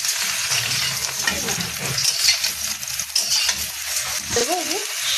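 Mango pieces fry in mustard oil with panch phoron for pickle, a close, steady sizzle and crackle with scraping stirs and a brief clink of utensils near the end.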